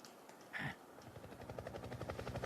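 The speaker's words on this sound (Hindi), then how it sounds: "हेलीकॉप्टर।" A helicopter in a dubbed action film sounds as a steady rhythmic rotor chop that builds into a regular pulsing thud, preceded by a brief burst of other noise, with no talking.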